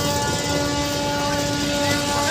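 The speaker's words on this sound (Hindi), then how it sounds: "ये रहा पूरा बरेली जंक्शन।" Loud, dense ambience fills Bareilly Junction railway station, with sustained horn-like tones held over a constant roar and no pauses.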